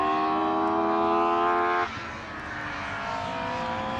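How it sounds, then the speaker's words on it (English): A modified Ford Sierra Mark II race car with a V6 engine at the Anglesey circuit makes a loud, buzzy harmonic drone. Its pitch drops sharply about two seconds in, then holds a lower, steady note. "That's a really nice sounding car. I think that's a V6 underneath that"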